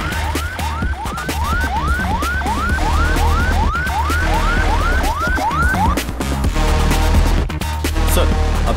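A wailing ambulance siren rises and falls in a fast repeating sweep, loud and close, with the sweeps stopping partway while street noise continues.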